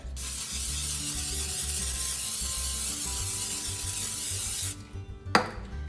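A steady, continuous hiss from a spray bottle onto gloves while making matzo balls lasts about five seconds, then cuts off, followed by a brief clatter and quiet handling.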